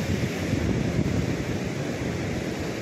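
Ocean waves crashing against shoreline rocks, a steady loud surge of surf and spray with wind noise on the microphone, no voices.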